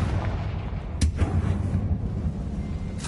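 A Confringo blasting spell goes off in the video game Hogwarts Legacy: a sharp explosive burst over a rumbling, noisy background, followed by a second crack near the end.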